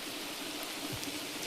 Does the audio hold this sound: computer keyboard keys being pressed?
no